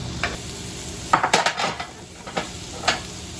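Crushed red pepper flakes tossed into a hot pan while cooking steak, with scattered light clinks and stirring clatter over a low background sizzle, a few sharp taps standing out.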